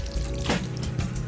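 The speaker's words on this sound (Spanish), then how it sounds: "Mojamos el cabello por todo, la cabeza." Tap water running steadily at a salon washbasin while a client's hair is wetted during a keratin treatment, a continuous close splashing hiss with a brief surge partway through.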